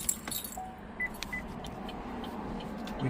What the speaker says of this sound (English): Let's turn the ignition on.